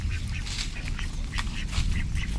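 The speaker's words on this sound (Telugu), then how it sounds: "బాతులు ఎలా ఉన్నాయో చూడండి." Ducks on a farm quack in short, repeated bursts, several close-by calls overlapping irregularly above a low, steady outdoor rumble.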